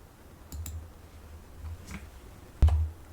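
Mouse clicks while selecting and starting a firmware update for a Kenwood NXR-1000 in update software: a few sharp, close clicks spread over three seconds, the last one loudest, with quiet room noise between.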